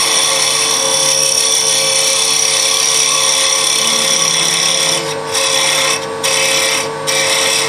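A wood lathe spins steadily while a finial bead is turned, giving a loud, continuous whirring hum with a few brief dips as the tool cuts and lifts.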